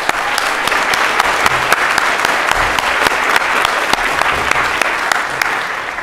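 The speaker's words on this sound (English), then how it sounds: "So everyone give them a round of applause." A Python conference audience claps loudly and steadily for several seconds at the closing session, dense applause filling the room without letting up.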